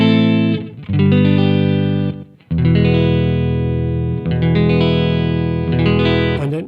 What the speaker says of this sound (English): Reverb effect.